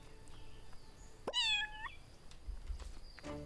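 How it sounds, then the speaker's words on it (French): A single clear cat meow sounds as the cat is petted in the video game Everdream Valley, rising and falling once over quiet game ambience. "On va caresser le chat."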